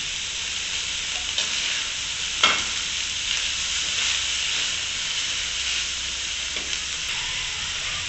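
Capsicum goes into a frying pan for a chicken vegetable roll filling and sizzles with a steady moderate hiss, marked by a few sharp scraping or clinking accents along the way.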